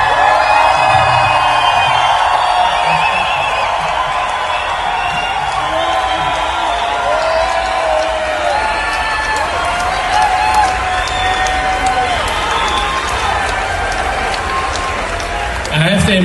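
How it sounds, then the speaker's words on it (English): Sustained applause and cheering from a EuroPride crowd greeting the Austrian President, a dense continuous roar of clapping and crowd noise with voices mixed in throughout. "I have the impression your applause means that I can stop now."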